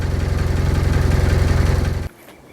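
Land Rover Defender engine idling as heard from inside the cab, a steady low throbbing pulse that stops abruptly just after two seconds, leaving quiet.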